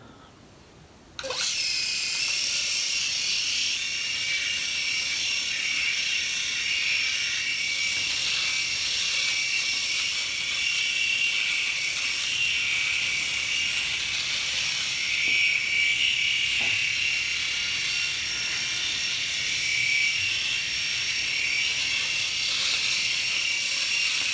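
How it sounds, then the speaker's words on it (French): A Philips S9000 Prestige electric shaver cuts through a beard with a steady, close buzzing whir. It starts abruptly and keeps running unbroken for over twenty seconds, with faint crackles of the hair being cut. "Donc le rasoir a fait vraiment un bon travail pour me couper la barbe."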